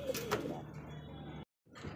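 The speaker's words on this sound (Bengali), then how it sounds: "দেখতে পাচ্ছি এখানে আরও এক জোড়া এক্সিবিশন কবুতর" A pair of exhibition pigeons cooing softly at close range, faint low calls that break off into a brief silence before the ambient sound returns.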